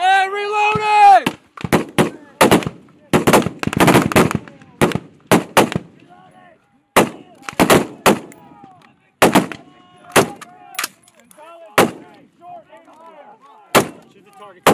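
Rifle gunfire cracks out in a squad attack drill, a long string of sharp, loud shots in irregular bursts and singles over about fifteen seconds, each snapping with a short outdoor echo; a voice calls out briefly at the start.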